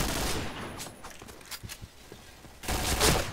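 Bursts of gunfire in the shooter Point Blank come in two clusters, a rattling volley at the start and another near the end, separated by scattered lighter shots and footsteps.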